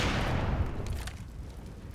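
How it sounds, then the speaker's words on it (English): Grenade blast in the video game CS:GO, a broad low boom with a dense rumbling tail that fades over about two seconds, thudding and fairly loud. "CY throwing a nade towards that smoke"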